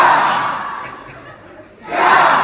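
An audience of about 2,300 people at a live show yells together in unison, a loud roaring burst that fades, then a second surge of massed shouting near the end.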